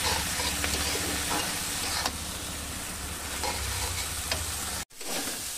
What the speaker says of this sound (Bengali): এবার ভালো করে একটু ভাজা ভাজা করে নেব